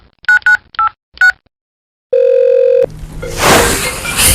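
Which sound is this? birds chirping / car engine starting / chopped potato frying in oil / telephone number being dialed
telephone number being dialed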